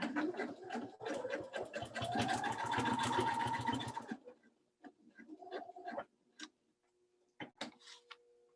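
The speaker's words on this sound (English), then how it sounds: "gonna sew as close as I can to the edge, and then I'm gonna back stitch one" A sewing machine stitches along the edge of a quilted Christmas throw pillow, starting with a loud, fast, steady run of about four seconds, then a few short, separate stitching bursts with pauses between them.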